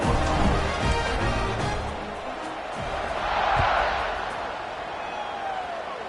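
Stadium crowd in the College Football 26 video game roars steadily at kickoff, a broad wash of cheering that swells midway and stays loud under game sounds.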